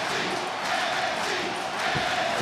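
A large arena crowd at an NXT TakeOver wrestling event keeps up a steady, dense roar of cheering and shouting, filling the whole moment without breaks.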